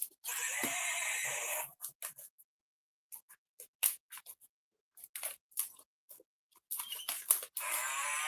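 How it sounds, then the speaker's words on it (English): A horse neighs from a pop-up animal sound book in one sustained electronic whinny, followed by scattered short clicks and bursts with silent gaps between them. "then you have the horse"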